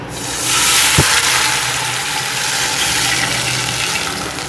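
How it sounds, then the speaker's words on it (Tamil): Dissolved jaggery poured into a hot pan of fried cashews for sweet pongal sets off a loud, steady rushing sizzle that swells in and holds close for several seconds, with one brief knock early on. "இந்த டைமில் நம்ம கரைச்சி வச்சுருக்க வெள்ளத்தை ஊற்றிப்போம்"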